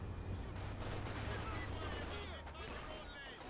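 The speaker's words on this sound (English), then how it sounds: "Nice incendiary round." An incendiary round fires during a Company of Heroes 2 match, part of a dense, sustained burst of battle gunfire and explosions roaring steadily throughout.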